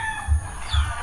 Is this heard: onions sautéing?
no